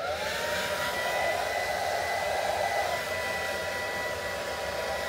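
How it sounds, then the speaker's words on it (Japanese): A hair dryer running inside a caravan, a steady close whooshing roar of blown air with a faint motor whine, unbroken and loud throughout with no talk. "キャラバンの中にドライヤーあったんで使います。"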